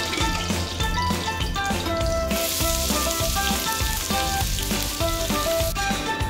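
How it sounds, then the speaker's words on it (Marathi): Onion frying in oil on a griddle for a Maharashtrian chicken masala, a steady dense sizzle running throughout with scattered pops and crackles, loud and close, no voices. "आपण कांदा हा व्यवस्थित भाजून घेणार आहोत."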